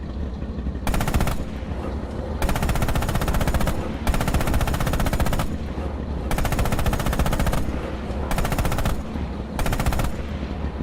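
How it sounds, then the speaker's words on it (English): Coaxial machine gun on a tank in Red Orchestra 2 firing sustained automatic bursts, about five long strings of rapid shots separated by short pauses, loud and close over a constant engine rumble. "Open fire with the coax MG on those targets."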